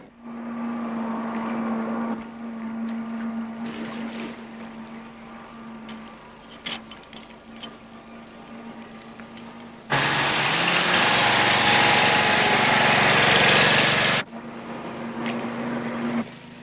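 A boat engine approaches loud and close, a steady broadband roar swelling in the middle and then dropping back to a lower droning hum, with no voices over it.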